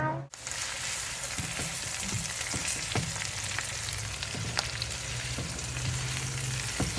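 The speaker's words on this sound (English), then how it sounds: "So you just want to stir everything around, make sure it's all getting cooked evenly" Cajun shrimp sizzling and frying in a pan while being stirred, a steady bright hiss with occasional soft scraping clicks from the utensil, close and continuous with no talking.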